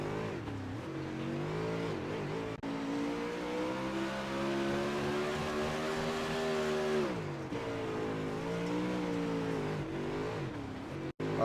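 Dirt super late model race cars roar around the Knoxville track, a loud continuous engine drone rising and falling in pitch as cars accelerate and pass, with no talk over it.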